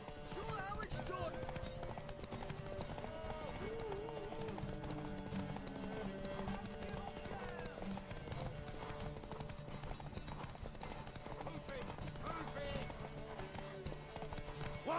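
Steady clip-clopping horse hooves trotting throughout in the video game The Witcher 3: Wild Hunt, with music playing and voices talking over the hoofbeats.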